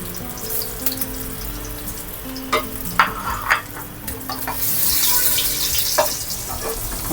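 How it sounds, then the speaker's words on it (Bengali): Beef meatballs frying in a pan, a loud close sizzle that swells into a hissing rush midway, with scattered clacks of a utensil turning them and no voices. "বিফ বল ফ্রাই হয়ে গিয়েছে, এখন নামিয়ে ফেলবো।"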